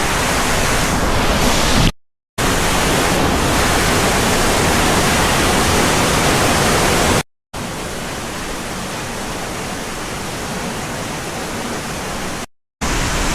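Strong wind roars in one loud continuous rush at a mountain waterfall, filling the air with dense broadband noise that cuts out briefly twice.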